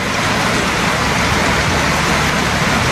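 Heavy rain pours steadily, a dense, loud wash of drops hammering a surface throughout, close and continuous with no voices.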